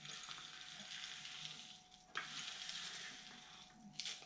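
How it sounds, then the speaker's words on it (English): Loose bonsai soil pours and scrapes into a small pot from a bonsai kit, a soft granular hiss that rises and falls close by, with a few sharper rattles of grit. "We'll just put a layer of soil"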